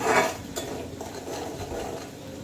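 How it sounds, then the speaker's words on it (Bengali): Spice paste fries and is stirred in a pan alongside lightly fried fish, a soft continuous sizzle broken by a spoon scraping and clinking against the metal, close and moderately quiet. "এখন মশলাটা কষিয়ে নিচ্ছি"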